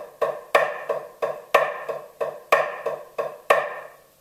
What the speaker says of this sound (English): the easiest way to teach this is to actually just play accented triplets straight up